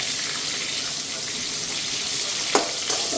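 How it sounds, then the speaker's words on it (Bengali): Pointed gourd (potol) pieces frying in oil in a pan, giving a constant close sizzle throughout, broken near the end by a couple of brief scrapes or taps. "তো পটলটা ভাজা হোক"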